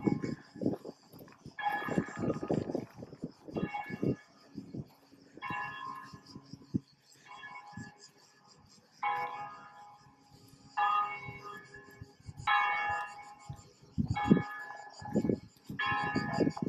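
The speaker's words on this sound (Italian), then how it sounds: "Si respira un'aria leggera e il rumore delle campane aiuta a rilassarsi." Church bells ring in repeated bursts of bright, overlapping tolls across Verona's Parco delle Mura, a city park along the old walls, heard at a moderate distance with low rumbling outdoor background between the peals.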